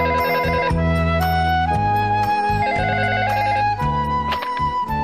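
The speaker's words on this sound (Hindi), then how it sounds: "शिनचैन, मसाओ का फोन है, जल्दी आओ" A telephone ringing in a Crayon Shin-chan cartoon home, heard as a loud electronic ringtone with repeating warbling tones that pulse steadily over a musical background for several seconds.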